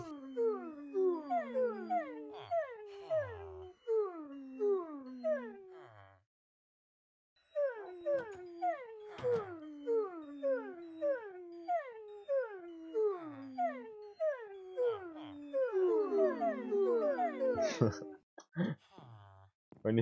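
A Minecraft dog whimpers and howls in quick, rising whines, repeated in a steady rhythm, stopping briefly partway through, then resuming and growing busier toward the end.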